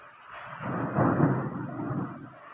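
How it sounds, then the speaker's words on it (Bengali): Heavy monsoon rain pours steadily against window glass during a storm with bright lightning, a deep rumble of thunder swelling and fading beneath the close, continuous downpour. "দারুণ বৃষ্টি হচ্ছে"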